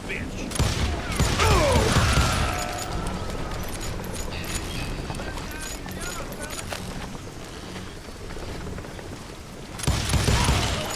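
Gunfire rattles through a western shootout in Call of Juarez: Gunslinger, dense loud volleys with ricochet-like whines early, then a steadier barrage and a renewed burst near the end amid galloping hooves and chaotic game noise.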